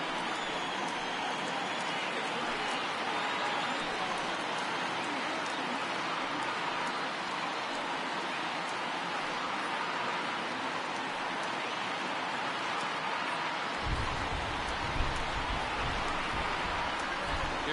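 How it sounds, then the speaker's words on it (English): Steady, dense rain hiss falls over a baseball field in MLB The Show 19 during a World Series game between the Houston Astros and Los Angeles Dodgers, continuous and even throughout, with a low rumble joining near the end. "Making plays in the rain becomes exponentially tougher to do when it's wet."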